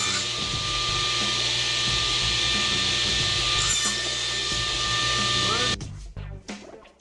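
A power saw cuts a wooden planter board to length, a loud, steady whine with a buzzing edge that holds for several seconds, then stops abruptly and leaves a few quieter knocks and handling sounds.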